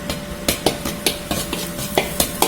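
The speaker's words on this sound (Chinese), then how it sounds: "下入刀口辣椒炒香" Chili flakes stir-frying with bean paste in a wok, a spatula scraping and knocking the metal in a quick regular rhythm over a continuous sizzle, close and clear.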